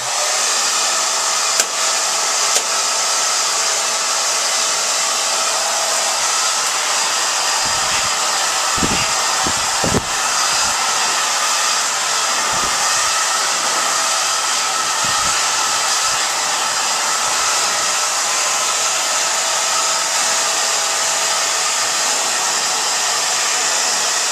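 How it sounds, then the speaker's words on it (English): A hair dryer blows continuously and loudly at close range while drying hair, a steady broadband whoosh throughout with a few faint low thumps partway through. "I'm going to blow dry my hair really quickly"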